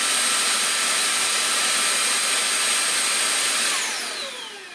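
BuTure JR700 cordless vacuum cleaner at maximum suction, about 72 decibels, a loud steady high-pitched whine that winds down near the end, with no talking.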